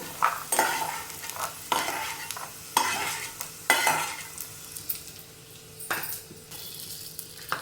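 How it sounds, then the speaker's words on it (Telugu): Peanuts and chana dal fry and get stirred in a pan for temple-style mustard pulihora, with repeated close scraping strokes over a steady sizzle and no talking. "మనం తీసి పెట్టుకున్న పచ్చిశనగపప్పును వేయించుకుందాం"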